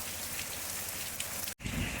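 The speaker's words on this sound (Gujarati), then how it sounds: "તો ભાઈ ધીમો ધીમો વરસાદ ચાલુ થઈ ગયો છે" Light rain pattering steadily on metal roof sheets, a soft continuous hiss of drops with a brief dropout near the end before the patter resumes.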